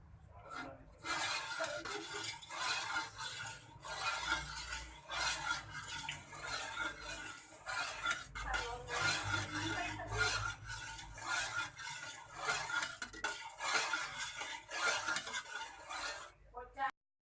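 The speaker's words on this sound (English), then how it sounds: "we cook with a little high fire, then we stir until it boils" Milk and coconut milk stirred in a pot over fairly high heat, a steady scraping and swishing of a utensil against the metal with occasional clinks, close and continuous with no talk.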